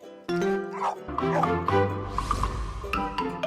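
Corgi barking close by, a series of yips and woofs with whimpering sounds between them, under a steady background.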